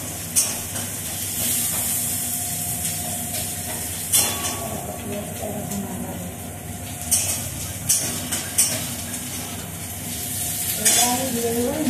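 Spices sizzle and fry in a pan with ginger, cumin, chilli, coriander, tomato, salt and turmeric, a steady close hiss broken by occasional sharp crackles and stirring scrapes.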